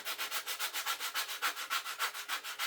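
Rhythmic back-and-forth rasping of sandpaper on the wood of an old rocking horse, about six strokes per second, close and steady with no talking.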